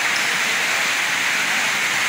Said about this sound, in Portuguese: Tá chovendo mais aqui dentro do que lá fora.